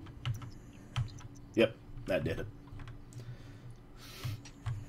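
Computer keyboard typing, a handful of separate key clicks and short bursts of tapping spread irregularly over a few seconds, close by, while someone says a few words partway through.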